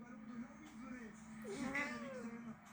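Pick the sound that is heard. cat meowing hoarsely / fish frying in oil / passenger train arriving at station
cat meowing hoarsely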